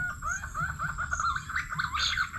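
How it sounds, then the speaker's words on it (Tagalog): Repeated soft, rising whistled calls of a pink-necked green pigeon played from a speaker, in a steady series, fairly close, with other faint chirps and background noise. "punay naman ang tunog niya"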